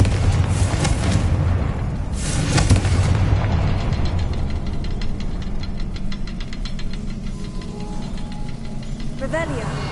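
Fiery Confringo spell blasts in Hogwarts Legacy, a loud burst of booming impacts in the first few seconds followed by a continuous rumbling din of combat effects, with speech-like game audio mixed throughout.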